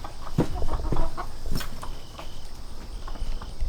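Chickens cluck softly in short, scattered bursts close by, over a low steady background hum.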